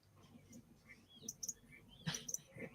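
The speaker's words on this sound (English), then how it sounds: "I got a little video of this bird here." A small bird lets out a few quick, thin chirps close by, faint and scattered over a quiet background.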